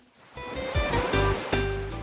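Waves wash over the small pebbles of Kolbano Beach, a steady rushing surge with a few louder breaking swells, near and continuous with no voices.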